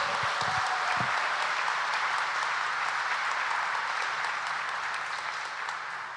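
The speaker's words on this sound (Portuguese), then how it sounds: "Uma salva de palmas para ele" Sustained applause from a church congregation during a Divine Mercy Sunday Mass homily, dense and steady throughout, with a few brief voice sounds at the start before the clapping fades slightly toward the end.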